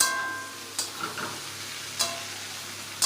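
Cabbage and other vegetables stir-frying for green chowmein in a home kitchen, a soft steady sizzle broken by sharp scrapes and clacks of a spatula against the pan at irregular intervals.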